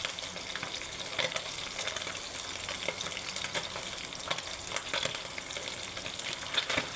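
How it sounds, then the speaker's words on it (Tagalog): Leftover paksiw na galunggong fish frying in hot, splattering oil, a constant dense crackle and sizzle with sharp popping bursts throughout, close by and without any voices. "tira-tirang paksiw, ginagawang pinirito."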